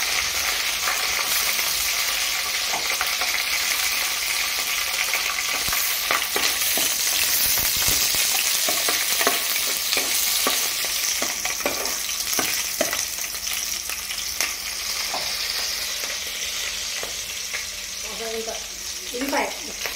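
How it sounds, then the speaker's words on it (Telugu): Dried red chillies frying in very hot oil, a loud continuous sizzle with scraping stirs and occasional clinks and water sounds, close up, with no break. "నూనె బాగా వేడైంది. ఇప్పుడు ఎండుమిరపకాయలు వేస్తున్నాం."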